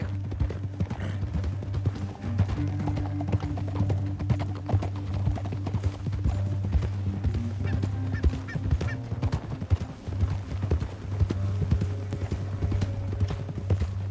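Horse hooves clip-clop steadily in Red Dead Redemption 2, a rhythmic trotting beat at moderate distance over a constant low engine-like hum and faint bird calls, with occasional game sounds layered in.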